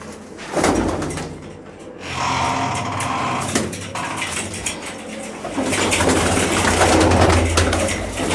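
Pigeons coo close by and loudly. The calls repeat and overlap across the whole stretch, with some shuffling and bumping noises in the background.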